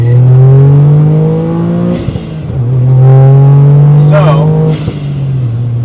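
A Toyota GR Corolla engine fitted with a K&N intake, OTL downpipe, catback exhaust and intercooler piping revs loudly and close, its steady drone rising and falling through two throttle blips, with brief talk over it.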